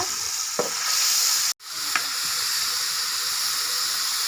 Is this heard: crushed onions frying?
yes